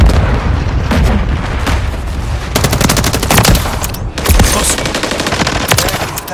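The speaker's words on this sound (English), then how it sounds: "Taking enemy fire!" Rapid bursts of automatic gunfire from a first-person shooter game, loud and dense throughout, with sharp clustered shots and booming impacts stacking over a constant battle din.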